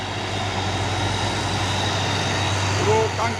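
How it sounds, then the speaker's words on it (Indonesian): A heavy CPO palm-oil tanker truck grinds steadily uphill with a deep, constant engine drone close by, under faint voices. "Truk tangki CPO"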